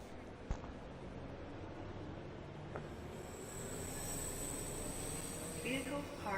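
Newton-bound electric multiple unit on the Cathcart Circle rumbling as it gets under way and accelerates, a steady low rolling noise with a clack early on and a rising whine building toward the end.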